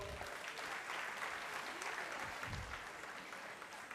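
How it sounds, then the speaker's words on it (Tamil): An audience at an annual meet claps in a dense, sustained round of applause, steady and even from start to finish with no gaps. "எல்லாரும் அவங்களுக்கு கைத்தட்டும்."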